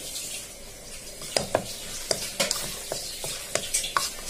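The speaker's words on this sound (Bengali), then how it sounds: "আমি একটা কাঠের সাহায্যে আমি এটাকে নেড়ে দিচ্ছি" Wooden spatula stirring spices in mustard oil, with a steady frying hiss and scattered scraping knocks against the pan at an irregular pace, close and clear, no talking.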